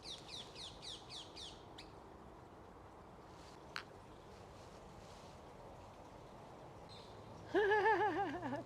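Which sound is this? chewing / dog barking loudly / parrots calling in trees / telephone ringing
parrots calling in trees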